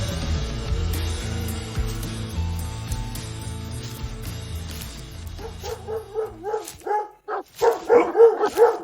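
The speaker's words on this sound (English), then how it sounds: "Hey, get a hold of your dogs." Several dogs barking and yipping up close in an audio drama scene, first under a dense musical bed, then as loud, distinct barks in a rapid irregular burst toward the end.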